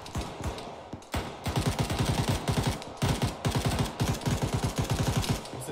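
Automatic weapons fire during an Arma 3 infantry firefight, steady rhythmic bursts of fairly close shots hammering on for several seconds, with a short pause about a second in before the firing resumes.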